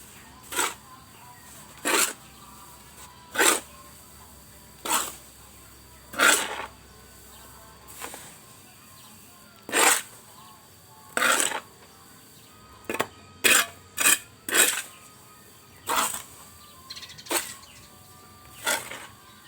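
Soil planting medium for grapes is stirred and mixed, giving repeated gritty scraping strokes roughly every second or two, close and moderately loud, with a quicker cluster of strokes midway.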